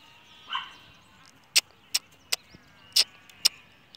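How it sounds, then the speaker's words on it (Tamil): A puppy outdoors in a forest gives five short, sharp yips or barks, spaced roughly half a second apart, close and clear against a quiet background. "இதே என்னோட நாய்க்குட்டி."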